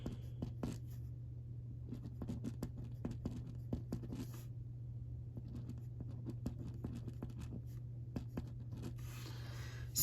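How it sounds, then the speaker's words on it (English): Handwriting out math on paper, pen or pencil strokes scratching in short irregular bursts over a steady low hum, close and quiet with no talking. "I'm just going to write these out."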